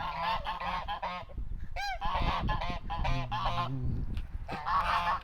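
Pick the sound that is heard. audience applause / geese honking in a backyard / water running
geese honking in a backyard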